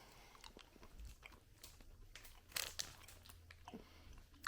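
Chewing of sugar-free mint gum from a Slovenian military 24-hour combat ration, with soft wet crunching bites and mouth sounds repeating close up, one sharper crunch partway through, no talking.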